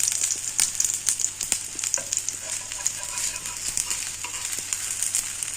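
Sweet maida dosa fries in oil or ghee on a pan with a close, continuous crackling sizzle and dense spitting pops throughout, with no talking.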